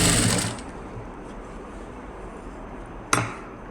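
A sewing machine stitches the lining along a blouse neckline, a brief loud whirring burst at the start, then quiet room noise and a single sharp clack near the end.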